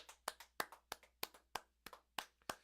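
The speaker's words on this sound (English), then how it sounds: "Round of applause for everyone that bought in." A few people clap slowly and unevenly, about ten distinct claps at a steady pace, faint and close, heard alone with no talk, after a livestreamed collectible blind-box break.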